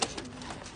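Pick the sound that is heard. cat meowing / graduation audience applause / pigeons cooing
pigeons cooing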